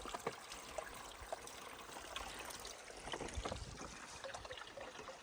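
Mountain water flowing and trickling steadily in a forest, a soft continuous babble with small splashes, fairly quiet and without voices.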